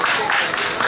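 A dense, continuous wash of audience applause fills a traditional folk gathering in Șimleu honouring a guest from Chișinău. The clapping is loud and close, with a hint of crowd noise.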